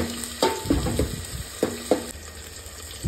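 Leftover rice drops into a sizzling onion and curry-leaf tempering in a pan, giving a steady frying hiss broken by several sharp bursts of sizzle and stirring.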